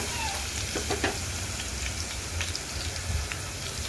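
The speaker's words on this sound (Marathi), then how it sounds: "चांगला परतून घ्यायचं आहे." Ginger and garlic fry in a few ladles of oil in a kadhai for Manchurian, a soft steady crackle like light rain with scattered small pops and faint stirring, quiet and without talk.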